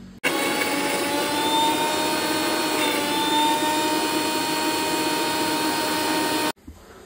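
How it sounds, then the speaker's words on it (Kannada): A mixer grinder whirs loudly and steadily for several seconds grinding paste for prawn ghee roast, then cuts off abruptly; no voices. "ಈಗ ಫುಲ್ ರುಬ್ಕೊಂಬ, ಫುಲ್ ಪೇಸ್ಟ್ ಹಾಕೋದಂಗೆ ರುಬ್ಕೊಳಕ"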